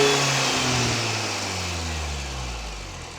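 A Mini Cooper S R53 fitted with an induction kit revs down from a high pitch, the engine note falling smoothly toward idle, loud and close.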